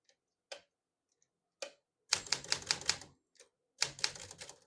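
Switch and keys on a 1957 Smith-Corona Silent-Super portable typewriter: a few isolated sharp clicks, then two dense bursts of rapid mechanical clatter, close and fairly loud, with no talking.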